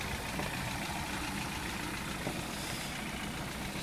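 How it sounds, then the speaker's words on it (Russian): A car engine idles with a steady, even rumble throughout, continuous and unchanging at a moderate level, after a fuel injector flush. "Мне кажется, движок мягче стал работать."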